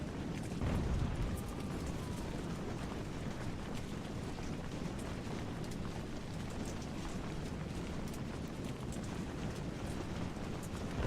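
Muskets and cannon fire during a British campaign tutorial battle in Ultimate General: American Revolution, heard as a dense, continuous rumble of distant gunfire with scattered sharper reports and no talking.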